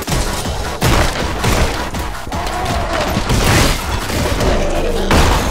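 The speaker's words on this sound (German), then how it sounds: "Das explodiert gleich vor mir." Explosions and gunfire crash through a stretch of the video game Anger Foot, with a dense run of loud booms and thuds in close succession and no pause between them.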